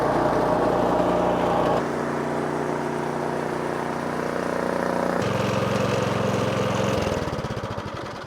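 A Craftsman snowblower engine runs steadily in reverse gear 2 with a close, droning mower-like hum that shifts pitch a few times before easing off near the end, with no talk.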